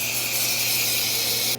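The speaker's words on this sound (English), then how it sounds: "I'm gonna go ahead and apply the chemical to it." Chemical cleaner sprayed onto an air conditioner, a continuous, close, loud hiss from the sprayer held steady for over a second before cutting off abruptly.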